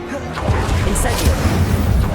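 Incendio fire spell cast in the Hogwarts Legacy video game: a dense, loud burst of magical flame and crackle that rolls on steadily for about two seconds, with a brief bright flare near the middle.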